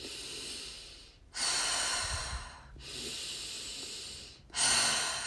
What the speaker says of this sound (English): I prefer to breathe in a way where I can hear my breath.